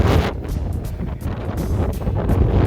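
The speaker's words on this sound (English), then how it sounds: "the mountain will shield us from this wind" Strong gusting wind buffets the microphone on an exposed mountain crest in the Presidential Range of the White Mountains, a loud continuous roar with surging blasts and no talk.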